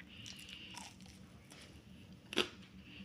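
A single sharp crunch of a bite into a crisp fried bun, loud and close, standing out against a quiet background hum.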